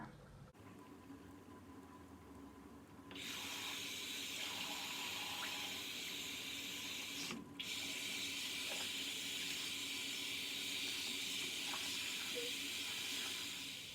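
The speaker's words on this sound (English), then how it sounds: "now we're going to release the water, rinse out the wig, and let it dry." Water draining and running in a sink while a synthetic wig is rinsed, a steady broad hiss that starts abruptly a few seconds in and continues without a break, with a brief dropout partway through.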